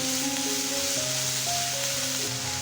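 Carrots, tomatoes and green chilies stirred together in a hot pan, a steady soft sizzle and frying hiss running throughout, close and alone with no talk.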